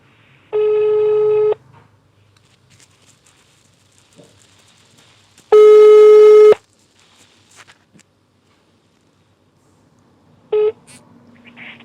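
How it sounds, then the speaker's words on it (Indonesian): Telephone ringback tone on an outgoing call: two loud one-second beeps about five seconds apart, then a brief third one cut short, with near silence between. "Kita coba telepon langsung aja teman saya ini."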